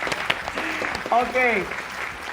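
Audience applause at an event featuring a young cellist, scattered clapping beneath a voice speaking and a brief vocal exclamation, moderately loud and somewhat sparse.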